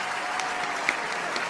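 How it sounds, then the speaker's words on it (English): Dense applause from a crowd fills the moment, a steady wash of many clapping hands at moderate loudness without pauses. "Alright, everyone clap."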